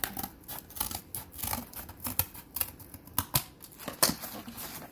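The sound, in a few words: scissors cutting faux floral stem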